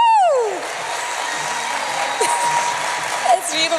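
Audience applause at a teaching award presentation, steady clapping from a crowd with a descending whistle or voice at the start and occasional shouts near the end, moderately loud.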